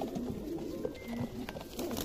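Pigeons with red eyes coo softly in short, repeated low notes, faint and close, against a quiet background.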